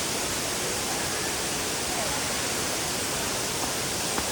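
Steady, loud roar of a stream running high after heavy rain upstream, a dense unbroken wash of water noise close by with no clear voices.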